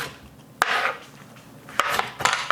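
A knife dicing red onion on a cutting board, heard as a few sharp, close taps with some scraping and rubbing between the cuts, the strokes irregular and fairly loud.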